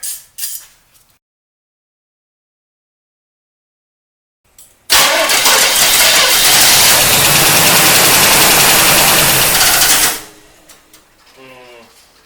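After a quiet stretch, a 1972 Camaro engine, long unused, starts and runs loudly for about five seconds, a harsh steady roar with rattling from the fan hitting something, then cuts off.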